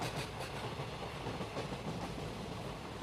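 A passenger train on the Howrah Junction to New Delhi route runs along steadily, a soft continuous rumble with faint rhythmic wheel clatter heard from on board.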